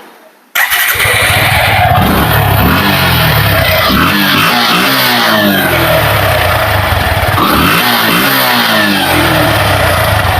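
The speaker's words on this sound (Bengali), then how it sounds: "দেখাবো বাইকটির সাউন্ড কন্ডিশন" A motorcycle with about 15,800 km on it starts after a moment of quiet, then idles loud and close with repeated throttle blips that rise and fall in pitch.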